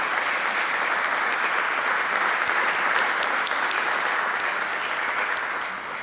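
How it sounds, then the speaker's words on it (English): An audience at a talk on gender-affirming perinatal substance use treatment breaks into steady applause, a dense, even patter of many hands held throughout and fading slightly at the close. "So I would like to give an applause for Adam and Taila and for their hard work."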